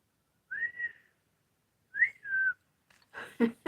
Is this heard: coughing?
no